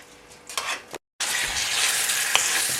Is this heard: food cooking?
yes